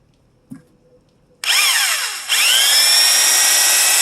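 A power drill whirs loudly and steadily after a brief tap, its pitch shifting as the bit bites through plastic, continuing without pause to the end.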